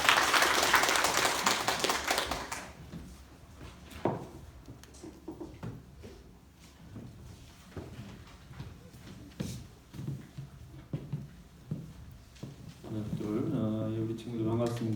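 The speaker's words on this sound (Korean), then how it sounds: "박수로서 환영해 주세요." A high school worship service congregation briefly claps to welcome a pastor, a dense burst of applause that quickly fades before a voice starts speaking alone.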